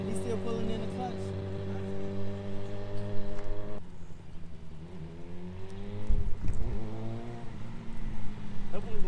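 A dirt bike engine idles and then takes a little gas as the clutch is let out, a loud nearby buzzing drone that drops and rises in pitch, with people talking over it.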